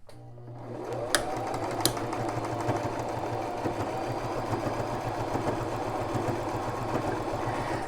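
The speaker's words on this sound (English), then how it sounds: "and then I'll stitch, and then I'm going to back stitch." A Brother LX3817 sewing machine stitches steadily, a continuous fast mechanical whir with a couple of sharp clicks near the start, close and fairly quiet.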